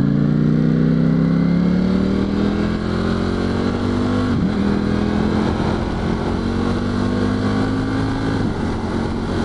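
A Ducati Panigale V4S motorcycle pulls away in sport mode, its engine note rising smoothly through two upshifts, loud and steady with no voice over it.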